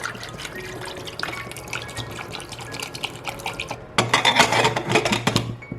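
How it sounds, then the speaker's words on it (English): Water pours steadily into a soup pot for a spicy Tibetan churu soup, a close, continuous splashing and trickling that grows louder and fuller near the end. "next we're going to add water"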